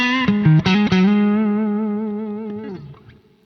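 An electric guitar through a Neural DSP Soldano SLO-100 crunch channel with a compressor on rings out as a few short picked notes, then one long distorted note that sustains steadily and fades away, with no talking.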